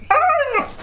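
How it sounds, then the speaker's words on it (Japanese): A single drawn-out dog bark, close and loud, with a whining, slightly growly edge, lasting under a second with no talking around it. "カメラ向けたら何吠えよんの。"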